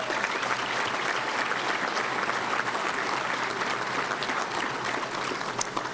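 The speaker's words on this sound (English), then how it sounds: "Keith, give him a round of applause." Clapping from a luncheon crowd at a touchdown club gathering, a steady roar of many hands that continues without a break, moderately loud in a large room.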